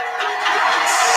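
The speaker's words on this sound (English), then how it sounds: "Give you a round of applause." A live show audience cheers and applauds in a short, loud burst of crowd noise and whoops, with no clear individual voices.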